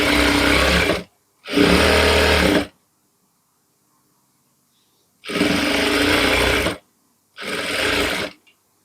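Sewing machine stitching a sanitary pouch from its center outward, running in four steady motorized bursts of about a second each, with a long pause between the second and third runs.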